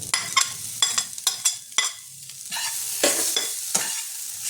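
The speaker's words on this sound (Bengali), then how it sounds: "এবার আমি এর মধ্যে মাছটা দিয়ে দেবো" Katla fish paste frying in oil in a pan, with a steady broadband sizzle swelling up partway through and sharp, repeated scraping strokes of a spatula stirring it; close, fairly loud, no voices.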